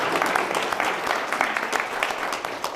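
An audience at a suicide prevention and awareness forum applauds the mayor: a steady, dense patter of many hands clapping at once, moderately loud and unbroken for the whole stretch.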